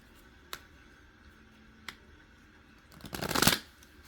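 Tarot cards are handled: two sharp isolated card snaps, then a brief riffling shuffle swelling near the end, close and fairly quiet with no speech.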